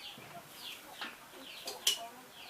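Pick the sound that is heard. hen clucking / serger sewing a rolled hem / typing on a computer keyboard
hen clucking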